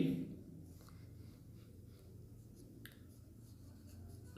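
Pen writing on paper or a board during a maths lesson, soft faint scratching strokes close by with a light tap, quiet and without talk over it.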